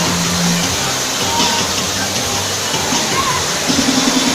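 Waterfall and shower spouts at the Temberkuh bathing place in Pakpak Bharat give a loud, steady rushing of falling water, with a voice heard faintly over the roar.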